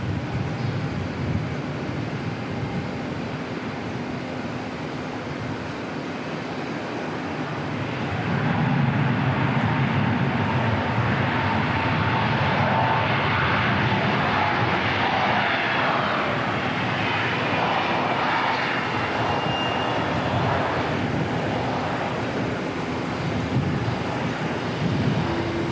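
Airliner on the runway at Auckland Airport, a steady broadband jet roar that swells and holds loud from about a third of the way in, with wind buffeting the microphone throughout and no talking.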